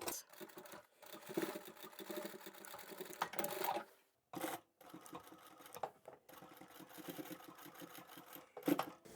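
A sewing machine stitches back and forth across a bulky bag seam at a box corner, running in close bursts of rapid mechanical chatter separated by short pauses, with no voice.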